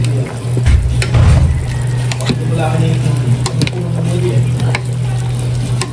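A pot of pork sinigang with green chili gets stirred, a close sizzle and bubbling simmer under a steady low hum, with scraping strokes of a ladle and a voice speaking faintly now and then.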